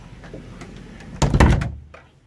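A side closet door in the guest bunk room of a 65-foot Hatteras yacht bangs shut with a close, solid thunk and a short rattle after a few faint background knocks.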